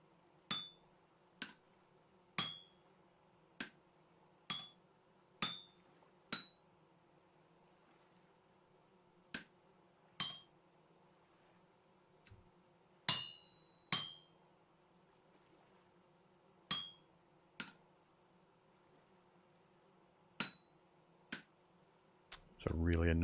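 A smithing hammer strikes metal on an anvil in Vintage Story, sharp ringing clangs coming one to three at a time with pauses between, loud and close over a quiet low hum.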